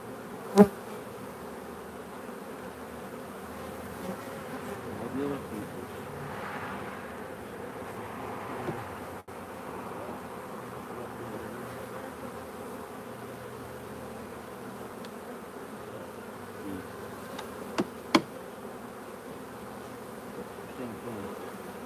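Honey bees buzz in a steady, dense drone during a bee yard hive inspection, close and continuous, with a few faint clicks and knocks of frames being handled.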